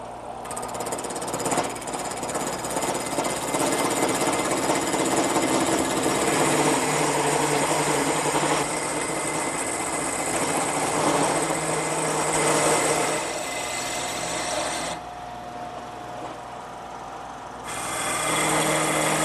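A router with a nylon follower tracing a template while its cutter removes wood stock, a loud, steady high-pitched whine with gritty cutting noise, easing off toward the end before starting up again.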